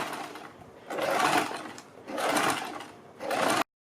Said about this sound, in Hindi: इसके बाद हम बुकरम के बिल्कुल बराबर में पूरे गले के ऊपर सिलाई लगाएंगे